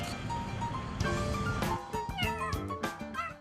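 Several cats meow repeatedly at an animal shelter, a close run of overlapping, pitched mews and cries following one another in quick succession.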